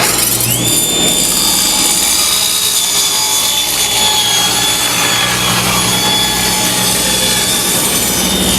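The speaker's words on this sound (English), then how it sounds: "Normally I'm hating on this panel cutter because it's too big and heavy and clunky, but for these 2 foot wide panels," A panel cutter saw slices through 2 foot wide wood panels, a loud continuous whining roar of blade and motor that runs steadily throughout, close and alone.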